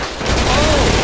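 Gunfire in the video game GTA 5 during a police standoff in a robbery: loud, dense shots in a rapid burst that fills about a second.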